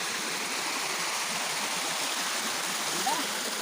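Steady rushing flow of a river stream near Pinzal Falls, a broad close wash of water, loud and unbroken from start to finish.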